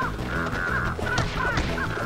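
A bird caws repeatedly in the video game Ghosts 'n Goblins Resurrection, harsh crow-like calls over busy game music, loud and close.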